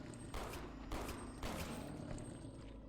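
Gunfire from shooting enemies in a PS1 demo disc video game: a few distinct muffled volleys of shots, spaced about half a second apart, fairly quiet against a low background hum.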